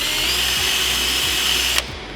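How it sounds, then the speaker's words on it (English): A power drill whines steadily at high speed, close and loud, then abruptly stops, drilling mounting holes under a bar for LED strip light channel. "I'm drilling them out"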